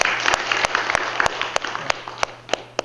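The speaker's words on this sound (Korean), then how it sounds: "박수 한번 주세요." A congregation claps at a Buddhist Thursday dharma service after chanting, with a steady wash of hand claps punctuated by several sharp, louder individual claps across three seconds.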